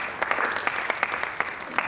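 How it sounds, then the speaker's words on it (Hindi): An audience at a theatre performance applauds during the credits; distinct individual claps stand out irregularly over a softer bed of continuous clapping. "जोरदार तालियां"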